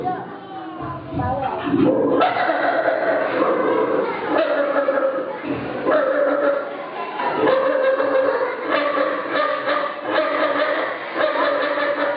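A voice imitates a dog barking, giving a series of loud, close yapping barks in bursts, mixed with chuckling and chatter from others.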